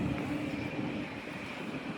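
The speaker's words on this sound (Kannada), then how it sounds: "ಯಾಕಂದ್ರೆ ಭಾಳ ಗಾಳಿ ಐತಿಲ್ಲೇ" Strong wind buffeting a microphone outdoors, a steady broad rumbling roar with a faint tonal hum running under it, no voices.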